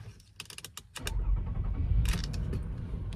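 A Toyota Harrier engine is started: a few clicks and a brief whirr first, then the engine catches and settles into a steady, close idle rumble, with some light clicks over it.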